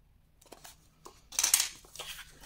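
Paper is cut from a box template for a scrapbook advent calendar, with a few soft snips followed by a louder rustling cut and paper handling up close.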